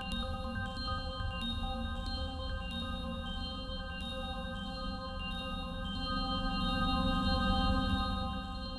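Sustained synthesizer tones from the Xynthesizr generative synth with reverb applied, layered steady pitches shifting in soft stepped changes, their tails washing together into a smooth ambient wash, playing alone without talk.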